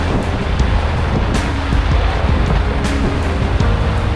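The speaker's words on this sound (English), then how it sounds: "I'm heading us right into the waves." Sea waves slap against a sailboat during a squall storm, with gusting wind buffeting the microphone and irregular sharp splashes over a constant loud roar, close by and with no voices.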